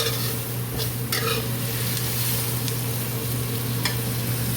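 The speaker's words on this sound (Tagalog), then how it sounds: "Stir fry until it's cooked." Food being stir fried with soy sauce in a pan, a steady close sizzle with occasional scrapes and clinks of the utensil against the pan.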